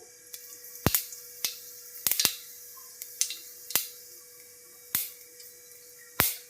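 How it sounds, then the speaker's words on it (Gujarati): Mustard seeds and cumin crackle in hot oil as sharp, isolated pops, about a dozen scattered irregularly over a quiet background hiss, with no speech. "હવે તેલ આવી ગયું છે. આપણે રાઈ જીરું એડ કરશું."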